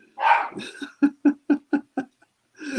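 A dog barks indoors in a quick run of about six sharp, loud barks, close to the microphone, with a voice just before and after.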